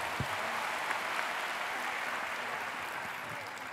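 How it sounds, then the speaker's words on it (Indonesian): Crowd applause at a university student orientation ceremony, a dense, even wash of clapping from a large audience holding at a steady level, with faint voices mixed underneath. "tepuk tangan untuk seluruh mahasiswa"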